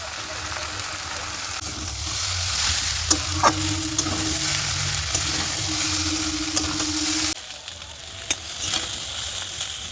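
Chow mein frying with egg and chow mein masala, a loud continuous sizzle with steady stirring and scraping in the pan, close up, with a faint voice beneath.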